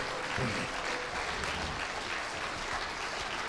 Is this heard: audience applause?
yes